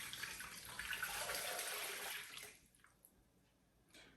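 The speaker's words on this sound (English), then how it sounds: "And then we're going to add our broth or beef broth." Beef broth poured into a pot for a brisket cobbler makes a steady, fairly close liquid splash for about two and a half seconds, then trails off into quiet with a faint clink near the end.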